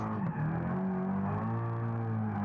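A car engine in the video game BeamNG Drive drones steadily with a sliding, squealing pitch like tires drifting, loud and continuous for a couple of seconds with no talking.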